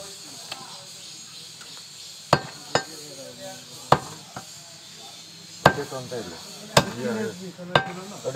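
A butcher at a street meat shop in a cow meat market chops beef with a cleaver, sharp thuds landing irregularly over several seconds amid steady market chatter and voices.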